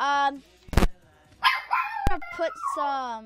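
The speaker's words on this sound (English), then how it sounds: "Oh, that's just my dog." A dog barks a few sharp, loud times between stretches of nearby speech, with yips mixed into an indoor scene.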